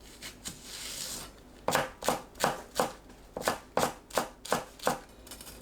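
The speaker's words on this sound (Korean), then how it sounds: "파를 작게 썰어주세요." Knife chopping green onion into small pieces on a cutting board, a steady run of about a dozen crisp, evenly spaced taps, close and clear with no talk.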